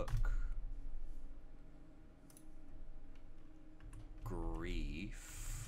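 Keyboard typing in The Infectious Madness of Doctor Dekker video game comes as soft, sparse key taps over a quiet background hum, with a short tonal game sound rising near the end.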